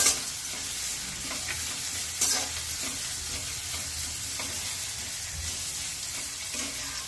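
Onions sautéing in a pan for onion chutney, with garlic about to be added and salt already in. A steady close sizzle carries the whole stretch, broken by occasional scraping stirs and clinks.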